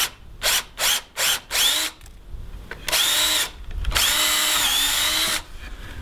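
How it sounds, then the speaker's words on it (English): A power drill fitted with a 1/4 inch wood bit bores into wood while a threshold is installed on a Dutch door for a tiny house. There are several short loud bursts, then longer whining runs close by, with no talking. "What I'm going to do is use a 1/4 bit,"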